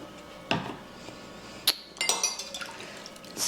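A spoon stirs vanilla extract into a milk mixture for New Orleans-style bread pudding. A few sharp clinks against the bowl mix with soft liquid swishes, in short bursts separated by quiet gaps.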